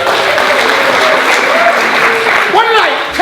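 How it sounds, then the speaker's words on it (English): Dense audience applause in an acting class, loud and continuous throughout, with a voice speaking over the clapping near the end. "What did I tell you about the applause?"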